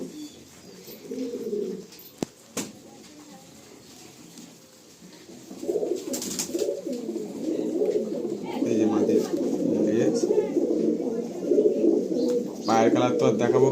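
Homebred pigeons, young unflown birds among them, coo in a home loft near Airport 1 No Gate, the low cooing building from quiet to a steady chorus, with someone talking now and then and a few sharp knocks and rustles.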